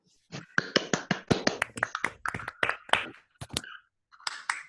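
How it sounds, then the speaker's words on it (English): A handful of people clapping for organizers at the close of an online physics workshop, a sparse, close run of individual claps with short gaps, thin and uneven rather than a full crowd. "So I think also an applause for the organizers"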